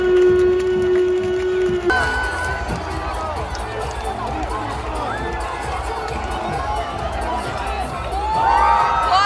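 A football stadium crowd at a K League match between Gangwon FC and Suwon FC at Songam Sports Town cheers and roars steadily, a loud, continuous mass of voices with shouts rising near the end.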